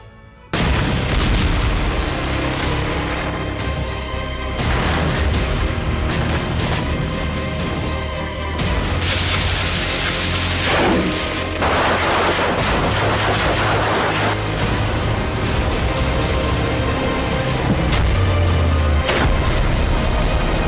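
Explosions and gunfire in Gaza during the Israel–Hamas war: loud, dense booms and rapid bursts of shots roll on almost without pause for about twenty seconds, with no voices.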